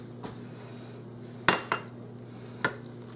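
A spoon clinks against a pressure cooker pot while stirring a rice and broccoli casserole, giving a few sharp metallic knocks spaced irregularly over a steady low hum.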